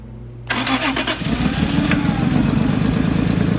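An old car engine that had not run since 2004 cranks and catches, then settles into a loud, steady rumbling idle with a slight exhaust leak.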